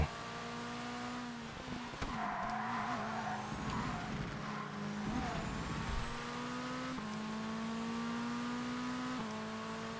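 A supercar engine in the ToCA Race Driver 2 racing game holds a constant high drone against the rev limiter, with brief tire squeal and skid noise midway and a slight pitch step near the end.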